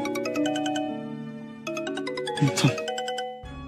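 A phone ringtone plays for an incoming call, a melodic electronic tune of repeating tonal notes with a brighter chiming flourish near the end, fairly clear and close, with no talking over it.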